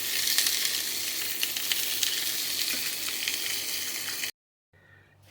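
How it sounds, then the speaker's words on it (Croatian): Sliced beer sausages fry in a pan, a steady close sizzle and crackle of hot fat running for several seconds before cutting off abruptly into near silence. "kobasice smo presekli i sad ćemo pre nego što odu u rednu samo minut, dva sa jedne i sa druge strane da ih okrenemo, evo, da ih ispržimo"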